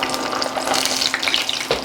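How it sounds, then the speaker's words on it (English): Banana pieces hit hot oil sprinkled with light brown sugar, setting off a steady, close, dense crackling sizzle that holds through the short stretch while Filipino food is cooked. "And now I'm going to add my bananas into the oil."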